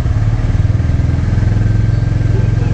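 A Royal Enfield Classic 350 motorcycle engine runs loud and close, thumping in a steady, even rhythm as it is given light throttle, with no talk over it.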